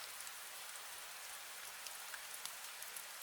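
Steady rain falling on a surface, an even wash of patter with scattered louder drops, continuous and alone with no voices.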